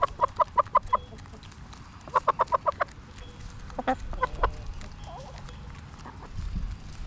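Backyard chickens clucking in quick bursts of four or five sharp calls, repeated several times at close range, with softer scattered clucks and scratching noises in between.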